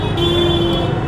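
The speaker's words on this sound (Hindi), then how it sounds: "भाई यहाँ पे हॉर्न मत बजाओ।" A car horn sounds as one sustained, steady honk in a busy market street in Jhansi, loud and close over a dense traffic rumble.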